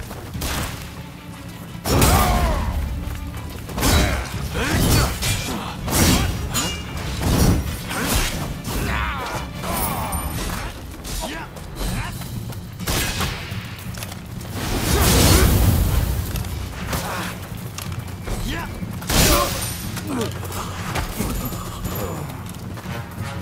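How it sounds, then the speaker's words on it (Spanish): Bursts of gunfire and sharp impacts in a busy Rise of the Ronin game scene, with heavy thuds, mechanical clatter and whooshes layered throughout, fairly loud and continuous. "¡Aguanta! ¡Espera que haya menos disparos!"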